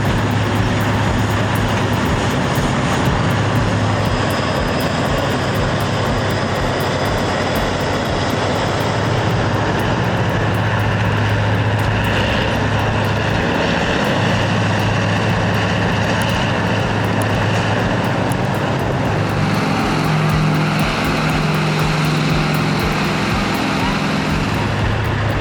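A large diesel mining excavator engine runs steadily and loudly up close, a deep continuous rumbling drone with a low throbbing hum that holds throughout with only slight shifts in pitch and load.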